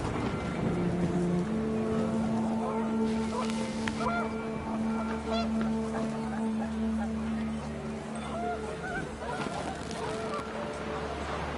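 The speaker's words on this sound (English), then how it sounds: "The wind picked up, and panicked geese appeared and quickly went." Panicked geese honk in gusting wind in the video game What Remains of Edith Finch, a scatter of brief calls over a steady low rumble, with a voice talking over part of it.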